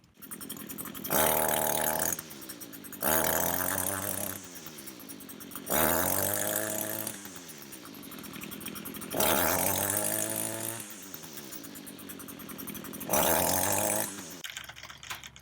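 A weed eater (string trimmer) engine after a carburetor adjustment revs up in repeated bursts, each surge rising and then sagging as it bogs down, with quieter idling between, loud and close.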